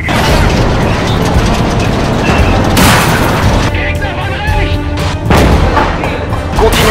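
Tank cannons firing in the World War II game Call to Arms: Gates of Hell during the Battle of Stonne 1940, loud booms and mechanical clatter amid dense battle noise, with voice commands heard over it.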